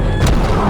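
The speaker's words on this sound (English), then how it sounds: "The zombies being taken out by the mortars." Mortar fire from the red team in Totally Accurate Battle Simulator lands on zombies as one loud, close, booming blast.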